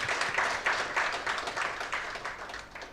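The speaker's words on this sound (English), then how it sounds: "can we clap for the two teams?" An audience at an artificial intelligence community meetup gives a round of applause for two teams, with dense, steady clapping that holds at an even level for the whole stretch.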